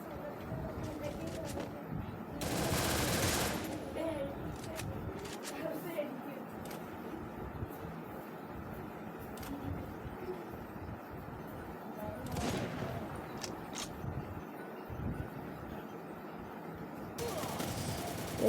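Gunfire from a Free Fire match, with MB40-type weapon bursts crackling in rapid clusters at moderate loudness, mixed over steady game ambience and player talk.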